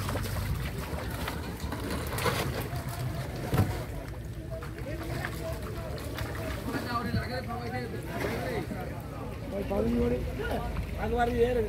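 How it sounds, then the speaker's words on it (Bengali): A fishing trawler sets off to sea from the coast at Bakkhali, its engine chugging faintly in the distance amid wind, with a person talking over it throughout. "ওই যে দেখতে পাচ্ছি ট্রলার নিয়ে রওনা দিয়ে দিয়েছে মাছ ধরার উদ্দেশ্যে।"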